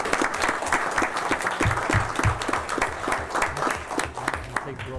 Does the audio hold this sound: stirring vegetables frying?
no